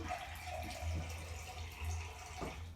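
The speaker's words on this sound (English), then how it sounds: "I'm gonna add another cup of water." Water poured from a cup into thick red beet juice, a steady low splashing trickle heard up close for a few seconds with no talking.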